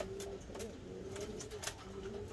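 Pigeons in a loft coo in soft, low repeated calls, several birds overlapping close by.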